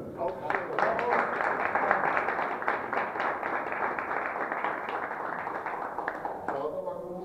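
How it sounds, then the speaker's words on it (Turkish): Applause at an award ceremony: a sustained wash of many hands clapping at moderate loudness, steady for several seconds before thinning out at the end. "Alkışlar."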